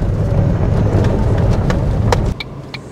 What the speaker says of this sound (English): let's get this Fiesta out on the road, see if this misfire gets any better or worse under load